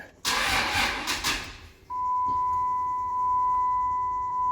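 A 2006 Cummins diesel pickup truck with electrical problems, after sitting at a shop for four months, gives a loud, close burst of cranking that lasts just over a second, then a steady high electrical whine continues alone.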